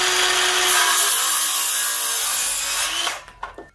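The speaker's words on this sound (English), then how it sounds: "You need a chainsaw for this." A chainsaw makes a fresh straight cut through a Christmas tree trunk, a loud steady buzzing whine for about three seconds that then cuts off, followed by a few quieter clatters.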